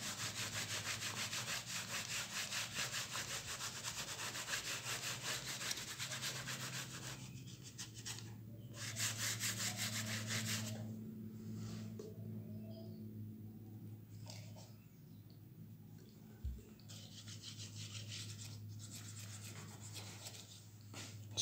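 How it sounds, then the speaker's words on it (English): A spare cloth rubs back and forth over an ink stain on a plastic surface, cleaned with spirit, making a steady, close scrubbing and scraping sound with a few pauses and no talk. "Then take a piece of cloth that you don't use, start to rub it."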